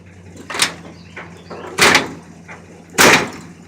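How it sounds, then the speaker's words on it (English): A heavy door on an old 1957 Chevy truck shut three times in a row, each a loud metallic slam with a short rattle, spaced about a second apart on concrete outdoors, with faint birds in the background. "That old door's been hard to shut for a while."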